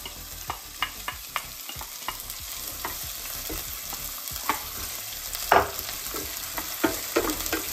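Onions and garlic frying in a pan for a sweet and sour pork stir fry, with a steady sizzle broken by scattered scraping stirs and clanks from a utensil, close and moderately loud, with no voices.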